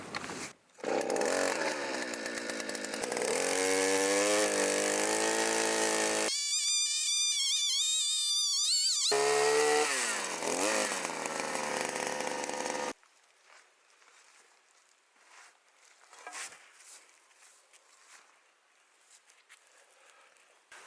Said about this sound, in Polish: No to teraz wiertnica i spróbuję wywiercić dziury pod ten słupek.